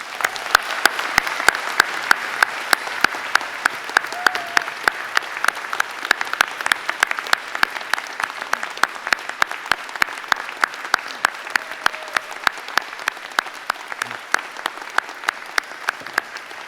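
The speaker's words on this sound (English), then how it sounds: "I would like to ask family, friends, faculty, and staff to join me in applauding each of you on the completion of your programs." At a spring university convocation, family, friends, faculty and staff give graduates sustained applause: a dense, even wash of many hands with crisp individual claps standing out, steady throughout and slowly easing.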